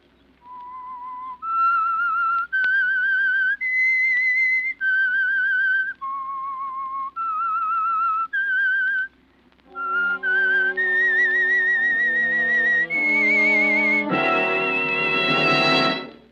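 A whistled signature tune introducing the old-time radio mystery program The Whistler, a lone clear whistle moving through a slow series of held, sustained notes, then joined by a swelling orchestral chord that carries the melody to its close.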